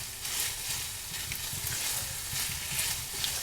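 Small pieces of beef browning in a pan for vegetable beef soup, a continuous close sizzle with light crackling and no talk.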